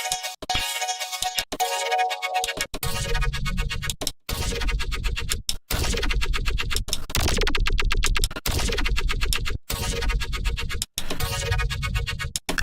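Bass synth sound morphed with the MMorph plugin in Ableton Live 11, producing loud, chopped, vocal-like tones that stutter in short bursts separated by abrupt gaps, with dense buzzing harmonics throughout.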